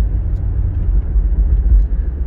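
A 60-foot Fleetwood motorhome drives through a neighborhood on aging tires, its engine giving off a loud, close, steady low rumble with no clear tire squeal.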